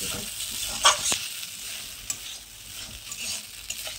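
A spatula scrapes and stirs through food frying in a pan with salt, turmeric, cumin and coriander powder, giving a soft continuous sizzle with a few sharper clinks and scrapes.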